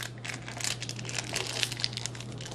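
Aluminium foil crinkles steadily while being folded in half by hand, a close, continuous rustle and crumple with no voices.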